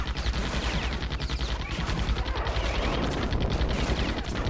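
Gun towers in Defense Grid: The Awakening fire rapid, steady bursts of machine-gun-like shots at advancing enemies, a dense, continuous rattle at close range with no talking.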